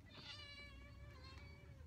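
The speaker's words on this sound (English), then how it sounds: "Can you hear that? That's one of my cats." A pet cat meows in a long, drawn-out wavering cry, faint and somewhat distant in a quiet indoor room.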